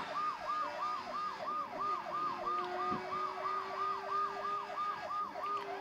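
Police car siren in the Saints Row The Third video game, a rapid repeating wail cycling steadily at moderate volume over a low background rumble, with no voices.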